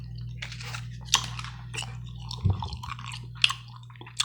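Someone chews two pieces of classic bubble gum close to the microphone, making wet smacks, squishes and sharp clicks that come in an uneven rhythm over a low steady hum.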